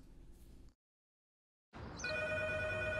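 A telephone bell rings loudly and clearly, with steady sustained tones that come in after a short silent gap and carry on with no talking over them.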